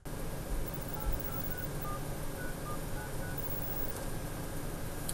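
A faint electronic tone and short beeps sit over a low, steady hiss as a phone on speakerphone is dialed, quiet and without speech.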